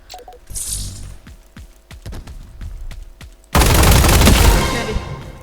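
Explosions and gunfire in a Roblox combat arena game: a string of sharp shots and thumps, then a sudden loud, sustained bomb blast that roars for about two seconds before fading.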